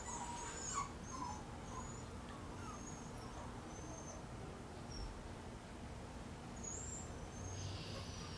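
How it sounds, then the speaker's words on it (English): A dog cries and whimpers somewhere outside at night, faint and distant beneath a steady hiss of outdoor background noise, with a few short high calls over about eight seconds. "And then we have a dog crying out there"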